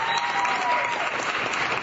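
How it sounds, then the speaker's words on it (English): An audience at a student presidential debate applauds the moderator, a steady dense round of clapping filling the room throughout. "You can give him a round of applause."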